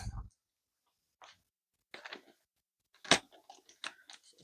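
Scissors snip and crinkle through a plastic bag up close, a few sharp crunchy cuts separated by quiet pauses.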